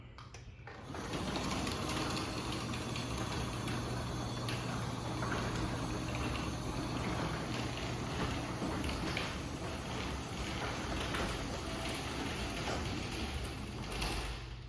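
A Linear LDCO800 garage door opener lowers the door with a steady, close motor hum and a busy chattering rattle that runs unbroken for the length of the travel.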